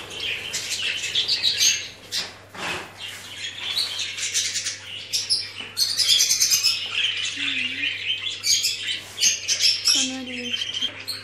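A flock of parrots, including birds with blue breasts, squawks and chirps continuously in a busy aviary, with loud, dense overlapping calls throughout and a few brief voices mixed in.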